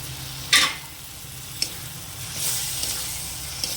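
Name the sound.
tomato paste frying and being stirred into spice masala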